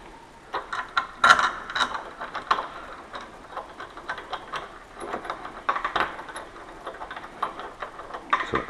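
Screws driven in by hand to fix a Lockwood 001 lock plate and packing plate on an apartment door, giving a close, irregular series of light ticking and clicking sounds.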